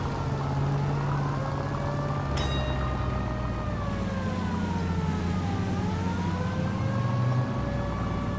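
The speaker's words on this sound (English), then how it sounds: "The siren might keep people out of your way, Phelps." Police car siren in the 1940s Los Angeles setting of the game L.A. Noire wails steadily in long rising and falling sweeps, loud and continuous over engine rumble, with no talk.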